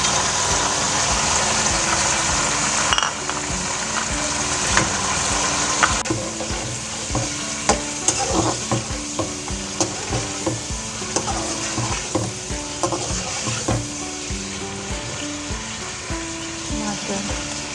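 Chicken fries in a pot with garam masala for a chicken pulao, a close continuous sizzle. Frequent clicks and scrapes of stirring punctuate it, growing more rhythmic toward the end.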